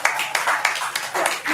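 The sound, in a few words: audience applause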